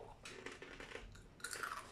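Crisp, close crunching of a fortune cookie being bitten and broken, a quick run of brittle cracks and crumbly snaps over about two seconds with no talking.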